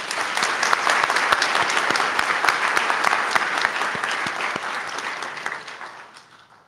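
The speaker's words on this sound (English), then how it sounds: "Please join me in giving them a round of applause." Steady applause from a ceremony audience honoring dental school faculty at a white coat event, dense and even, fading out over the last second or so.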